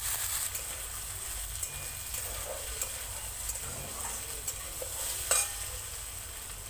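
Potatoes added to onions already fried red in a pan, a steady soft sizzle with light stirring scrapes throughout, no talking.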